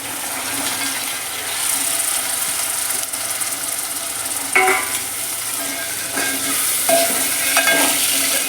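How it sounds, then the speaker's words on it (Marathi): Black ghevda beans with mashed tomato sautéing in a pan, a steady close sizzle with occasional spoon scrapes and clinks as the mixture is stirred. "छान असं परतून घेऊया"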